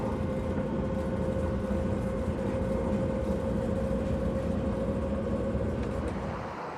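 Continuous rumbling of a moving train, a steady low roar with a constant tonal hum, fading slightly at the very end.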